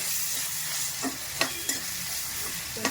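Finely chopped tomato and green chillies fry in a pan for mutton gravy, giving a steady close sizzle broken by a few soft scraping stirs, with no talking.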